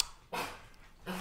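A dog barks at home during a Finnish podcast conversation, two short loud bursts with a pause between, fairly near.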